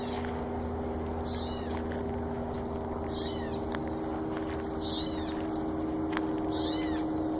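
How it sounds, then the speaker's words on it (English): An unidentified bird in a tree gives strange cat-like mewing calls, about five separate calls spaced a second or two apart, moderately near, over a steady low hum. "That is a very weird bird call."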